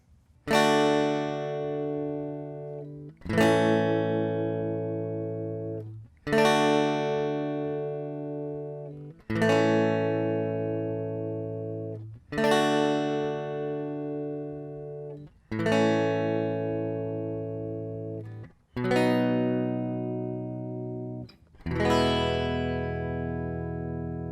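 An acoustic guitar strums eight chords one after another at an even, unhurried pace, each chord ringing out for a few seconds before the next.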